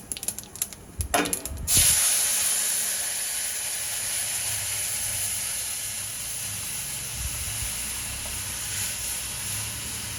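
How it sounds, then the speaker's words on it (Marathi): A few sharp clatters, then a sudden loud sizzling hiss as yogurt kadhi batter hits hot tempering oil, settling into a steady, fading sizzle. "आता यावर आपण कढी आपली ओतूया"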